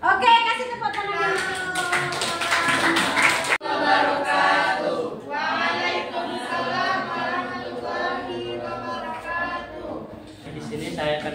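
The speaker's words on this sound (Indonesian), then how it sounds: "Oke, kasih tepuk tangan." A high school classroom at SMAN 3 Bangko in Riau, Indonesia bursts into a few seconds of loud hand clapping before a student's voice takes over, with murmured chatter around it.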